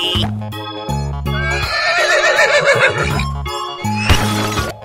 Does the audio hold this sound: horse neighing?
yes